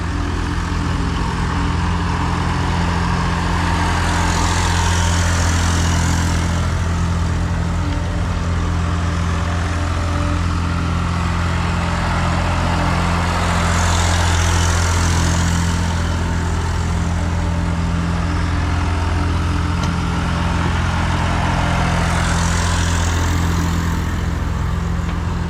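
A tractor engine runs steadily while grading and filling a house foundation, a constant loud low drone with periodic rises in higher-pitched mechanical noise as the machine turns and works the dirt.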